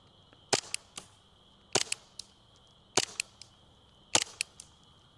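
An airsoft gun fires green tracer BBs in four evenly spaced bursts, each a sharp close crack with a quick snap after it, over a steady faint hum.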